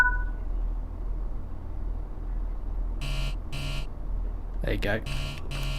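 A train cab buzzer in the Train Sim World 4 simulation on the Fife Circle line sounds in three steady, sustained bursts over low engine rumble, with someone talking briefly between them.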